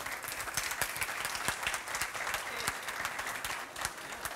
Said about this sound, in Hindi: अंकित के नाम पर तालियां थोड़ी सी और गर्मजोशी से बजनी चाहिए